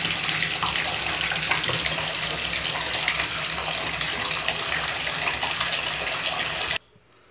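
Tap water pours steadily into a bathtub, a continuous close splashing rush that runs evenly for several seconds before cutting off abruptly near the end.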